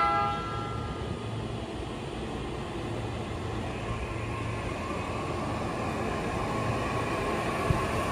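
A Joban Line train rumbles steadily as it slowly pulls away from Ushiku Station, Japan, with a low continuous drone of wheels and engine; a horn-like tone hums faintly near the start.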